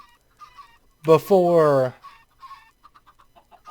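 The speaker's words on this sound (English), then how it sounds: "I wonder how many chickens we're going to have" In the Minecraft modpack Sky Factory 3, a chicken gives one loud, close cluck, then faint scattered clucks follow, with a quiet voice briefly underneath.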